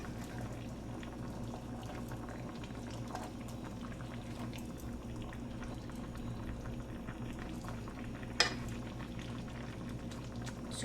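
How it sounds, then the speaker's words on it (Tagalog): Adobo of galunggong fish in sauce boiling in a pot, a steady close bubbling simmer that continues evenly throughout, with one brief sharp clatter near the end. "So, pakuluan natin uli ng another 5 minutes."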